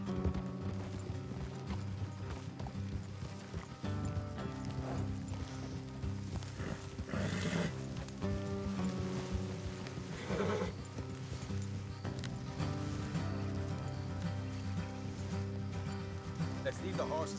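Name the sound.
horses' hooves clip-clopping in the Red Dead Redemption 2 video game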